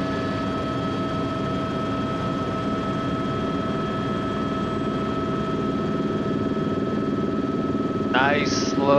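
A helicopter engine drones steadily and loudly through a flight lesson, a constant mechanical hum with a whining tone, and a brief burst of radio chatter near the end.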